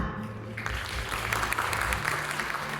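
Audience applause welcoming a guest speaker at the Yamaha Thailand Music Festival 2024, a dense, steady wash of clapping that swells after the first half second and holds at an even level with a faint low hum beneath.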